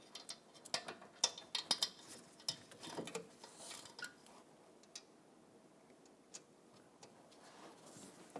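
Socket wrench working loose a starter heat shield bolt on a 2015-2020 GMC Yukon XL 5.3L V8, a quick run of sharp ratcheting clicks followed by sparser, fainter ticks, close and quiet.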